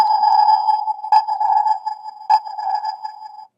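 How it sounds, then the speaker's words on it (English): A Transformers Energon Optimus Prime toy's submarine sonar ping repeats a few times, a steady mid-pitched electronic tone with short bursts of noise, loud and close with no talking. "Yeah, it's a submarine. I just love that sound."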